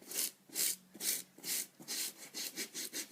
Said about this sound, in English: you want to start to scrub the brush, not too aggressively, just mildly scrub it